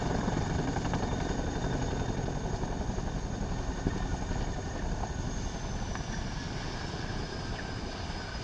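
A military helicopter undergoing a ground resonance test gives off a constant, dense roar of engine and rotors, loud and unbroken throughout, with no voices.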